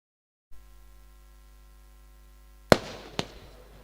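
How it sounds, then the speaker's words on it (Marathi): Two sharp firework bangs crack out over a steady electrical hum at a cricket tournament, the first louder, the second following about half a second later. "फटाक्यांची आतषबाजी या स्पर्धेत"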